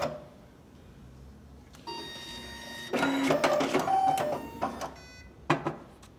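A Fastback 20 binding machine runs a bind cycle on a document with a pre-cut binding strip, starting with quiet hum, then whirring, clicking and mechanical clatter that rises midway and ends in a few sharp clicks.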